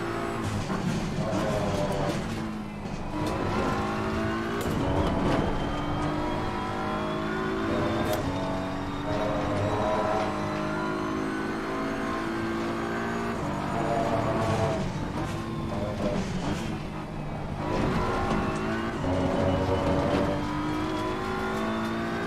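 A BMW race car at Suzuka in a racing video game, its engine screaming loud and close through repeated rising and falling gear-shift sweeps, with the revs climbing, cutting and climbing again throughout.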